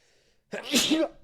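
One sharp, close sneeze bursts out after a brief quiet moment and a faint breath beforehand.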